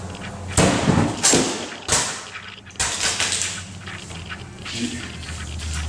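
A handmade steel katana forged from steel bar striking a bottle in a slicing test, several close sharp thuds and swishes over a noisy outdoor background.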